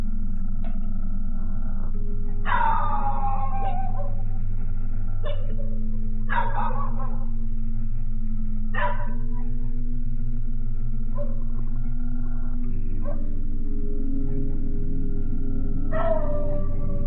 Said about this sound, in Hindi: अचानक वो दोनों दूर अंधेरे में किसी चीज़ को देखकर भौंकने लगते हैं।